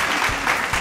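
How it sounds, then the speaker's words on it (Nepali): A brief burst of steady clapping from an audience at a donation program in Nepal, the applause close and continuous throughout. "ताली बजाइदियो ताली"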